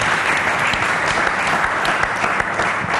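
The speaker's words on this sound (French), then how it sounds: "applaudissez très fort pour la mémoire de Mirami Kanza" Loud, dense applause from an audience at a hip-hop dance show tribute honouring Coco Swing, a continuous close roar of clapping without pause.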